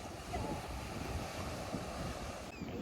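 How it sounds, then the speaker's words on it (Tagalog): Wind gusts steadily across the microphone at a seaside boat ramp, a dense, continuous roar blending with surf noise, loud and close throughout, no speech. "Medyo mahangin lang tayo ngayon."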